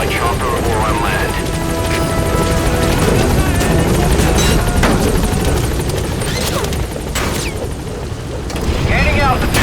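In the video game Metal Gear Solid V: The Phantom Pain, set in Angola and Zaire, a helicopter's rotor roars steadily and loudly throughout, mixed with booms, gunfire-like bursts and voices.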